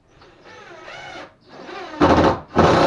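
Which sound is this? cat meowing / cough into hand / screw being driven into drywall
screw being driven into drywall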